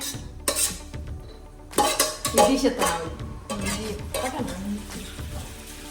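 Whole spices (cinnamon, cloves, cardamom and bay leaf) sizzle in hot ghee and oil for coconut biryani, with a utensil stirring and scraping the pan in uneven bursts, close and fairly loud.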